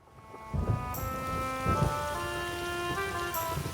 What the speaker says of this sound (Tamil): வெளிய பயங்கரமா மழை பெய்யுதே.